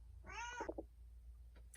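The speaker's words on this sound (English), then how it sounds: "Don't mind my cat." A house cat gives one drawn-out meow followed by a few short chirping sounds, faint and fairly close against a low background hum, with no voices.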